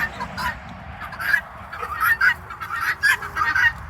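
Several chickens and a rooster on a farm cluck and squawk in uneven bursts, some loud and near, others fainter, over low outdoor background noise.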